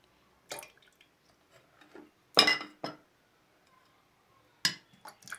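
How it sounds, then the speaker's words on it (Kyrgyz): Strained aloe juice is poured into a glass jar, giving a few short splashing and clinking bursts separated by quiet gaps, close by and fairly faint, with no talking. "андан кийин мындай банкага куюп алат экенбиз."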